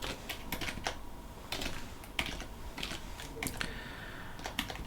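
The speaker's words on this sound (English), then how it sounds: "and this one I'll type" Clicky computer keyboard typing on an ArcoLinux desktop, irregular bursts of keystrokes with short pauses, close and fairly loud with no talking.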